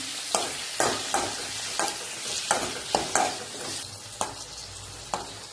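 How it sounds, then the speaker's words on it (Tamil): Tomatoes and garlic sauté in oil in a kadai, with a steady sizzle under repeated scraping stir strokes at an uneven rhythm, close and moderately loud, without talk. "எண்ணெய் கொஞ்சம் சேர்த்துட்டு தக்காளி வதக்கிக்கோங்க தக்காளி சேர்த்துட்டு பூண்டை சேர்த்து நம்ம வதக்கலாம்"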